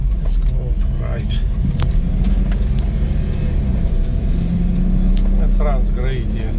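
A 1996 Daihatsu Hijet 4x4 dump truck drives along with a steady low engine drone and road rumble heard from inside the cab, fairly loud and constant.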